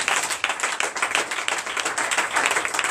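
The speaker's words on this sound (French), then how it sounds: "donnez une vive acclamation à l'Éternel" A church congregation at a night service of deliverance and prophecy in Benin claps and cheers continuously, a dense, loud wash of applause and raised voices with no pauses.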